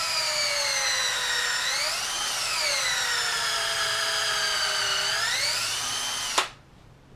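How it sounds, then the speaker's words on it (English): An electric drill runs loud and continuous for about six seconds while removing an old golf grip, its whine dipping and rising in pitch under load before cutting off abruptly. "turn the drill on."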